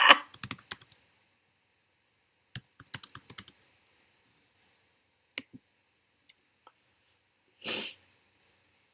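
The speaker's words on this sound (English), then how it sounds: "I was typing. Y'all heard me. I was going fast too." Fast typing on a computer keyboard: quick bursts of sharp key clicks, a cluster at the start and another a few seconds later, then scattered single taps and a short noisy rustle near the end, with no talk.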